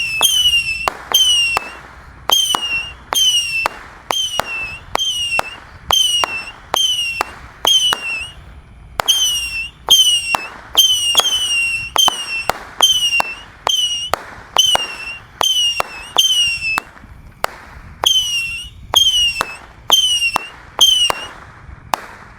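A 25-shot missile firework fires in a long rapid series of sharp whistling launches and pops, loud and close, evenly spaced with brief pauses between bursts.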